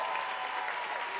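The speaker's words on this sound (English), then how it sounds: "Give them a big round of applause." Steady applause from a crowd honoring school superintendents at a mayoral education announcement, dense clapping throughout at an even level with no voices.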